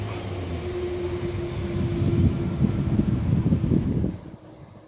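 A non-stop train rushes through Arnouville-lès-Gonesse station, rising into a loud, close roar with rattling wheels over steady wind noise before dropping off sharply near the end.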